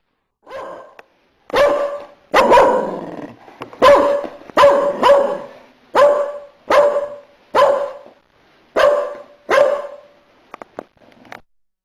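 A dog barks repeatedly in a loose rhythm, about a dozen sharp, fairly close barks separated by short pauses.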